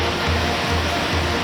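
Rushing river water at the Koshi Barrage on the Koshi River, a steady, loud, dense roar that continues without a break for the whole moment.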